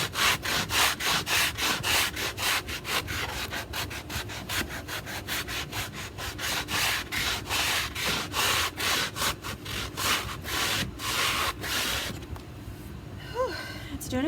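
A wooden cabinet door is sanded by hand, a quick regular rhythm of rasping strokes, close and steady, ending with a softer scrape at the end.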